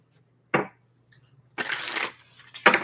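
Tarot cards are shuffled in three quick bursts, a short riffle, then a longer shuffle, then another sharp riffle, close and clear with silence between.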